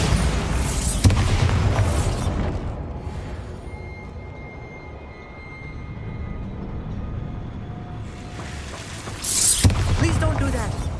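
A booming Bombarda spell blast from Hogwarts Legacy erupts loudly at the start, fading into a rumbling tail before a second heavy burst hits near the end, with a voice audible.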